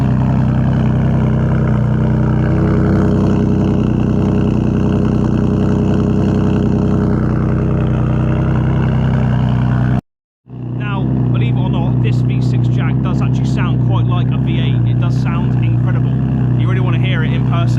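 The exhaust of a Jaguar XF 3.0 V6 petrol with its back box removed rumbles loudly and steadily at a high cold-start idle, briefly cutting out before restarting with a deep, rough drone while a voice talks faintly underneath.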